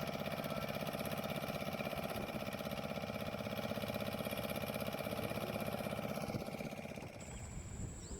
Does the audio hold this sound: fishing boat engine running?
yes